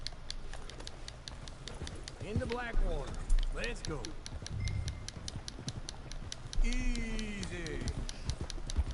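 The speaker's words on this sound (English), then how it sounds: "Get your horse." Horse hooves clip-clop steadily in Red Dead Redemption II, an even, rhythmic trot running throughout with voices speaking over it.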